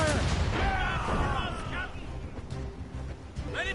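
Naval cannon fire in Assassin's Creed Rogue Remastered: several booming shots roll out in the mid-distance amid battle din, with shouted voices over the gunfire.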